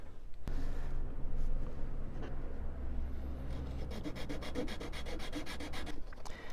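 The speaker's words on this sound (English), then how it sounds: "I'm just going to cut some of this dowel off" A hand saw cuts through a thin wooden dowel for an RC plane wing mount, making a steady close rasping stroke that speeds into quick, rhythmic back-and-forth strokes toward the end.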